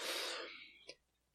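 A single sharp, breathy sneeze bursts out close up, then fades, followed by a brief faint vocal sound.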